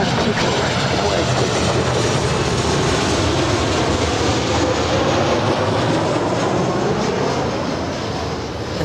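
A Southwest Boeing 737-800 airliner lands at LAX on runway 24 right, its jet noise a loud, steady broadband roar that holds throughout and eases slightly near the end.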